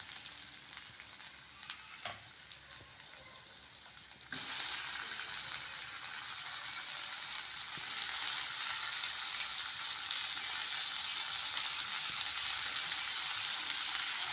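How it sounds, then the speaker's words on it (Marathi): Onion and tomatoes fry in a pan with a steady hiss that grows noticeably louder partway through, with faint stirring scrapes and no talk. "कांदा थोडासा करपूस लालसर झाला की त्यामध्ये आपण टमाटे ॲड करूया."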